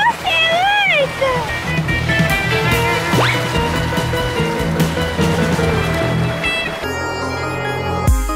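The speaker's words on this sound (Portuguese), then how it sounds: "Uma onda!" A cartoon ocean wave surges and sloshes in a Masha and the Bear scene, rushing water layered with music, whistling effects and excited character voices, ending in a sudden cut.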